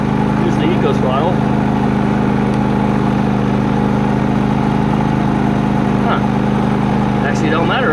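A Predator 3500W inverter generator runs with its eco throttle off, a steady loud close engine drone holding constant throughout, with brief faint sounds and some speech-like noise over it.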